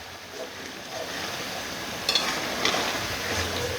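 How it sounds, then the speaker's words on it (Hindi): Mutton browning in ghee in a karahi makes a soft, continuous sizzle with light stirring scrapes, fairly faint and even, with a couple of brief sharper crackles and no voices. "अब मैंने ये घी डाल के इसको भूनना स्टार्ट कर दिया है।"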